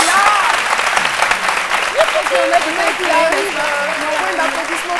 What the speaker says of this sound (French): Habituellement, quand on a des invités, on applaudit pour les recevoir.